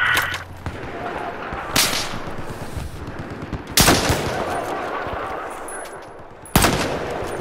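Gunfire in Battlefield 4, loud sharp shots spaced a second or two apart, each with a short echoing tail, over low background noise.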